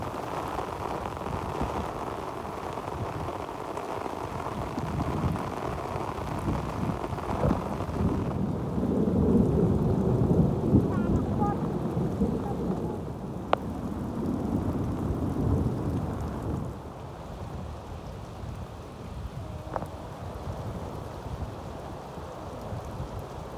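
Heavy rainstorm with strong wind beating on rice fields, a dense steady roar of rain with deep rumbling thunder and gusts swelling midway, loud and continuous throughout.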